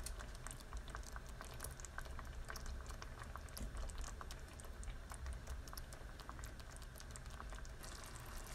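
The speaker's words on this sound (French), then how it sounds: "Je vais mettre des choux-fleurs que je les cuis 5 minutes." Cauliflower cooks in a pan over low heat for a tagine, giving a faint, continuous sizzle and bubbling patter with scattered small pops and no talking.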